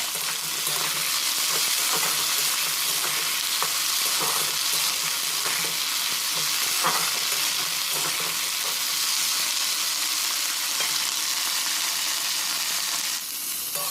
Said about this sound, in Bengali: কড়ার মধ্যে তেল দিয়ে দিলাম। সবজিটা এখানে ভালোভাবে আমি ভেজে নেব।